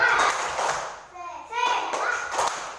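In a primary school classroom, children do a rhythmic spirit clap: a short cluster of claps and thumps set among the kids' chanting and talking voices.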